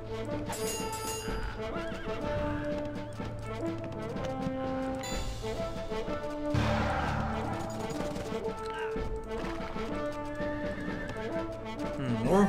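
Mounted horse archers in the Rise of Nations strategy game, horses whinnying repeatedly over rapid galloping hoofbeats, busy battlefield sounds with game music layered underneath.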